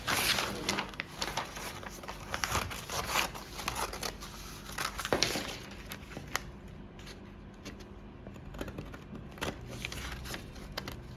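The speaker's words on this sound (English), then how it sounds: "I'll just cut off the excesses." Scissors trim the excess paper from a dart pattern, producing a run of close, quick snipping and rustling sounds that taper toward the end.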